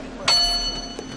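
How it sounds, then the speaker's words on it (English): A small hand bell is struck once, used as a time reminder for a speaker at a podium event; a single bright ring that decays quickly, with a softer second tap near the end. "This bell will help me to remind you just in case."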